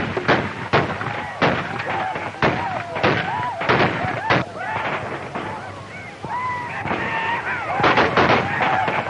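Rapid gunfire in a 1936 Western film battle, sharp repeated rifle and pistol shots cracking irregularly throughout, mixed with shouting and a horn-like honking.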